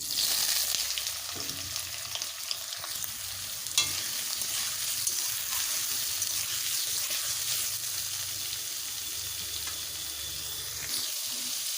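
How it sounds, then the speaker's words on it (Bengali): Soybean chunks frying in oil left over from frying potatoes, a soft continuous sizzle with an occasional stir or clink, fairly quiet and without voices. "এবারে ওই তেলেই ভেজে নেব সয়াবিন"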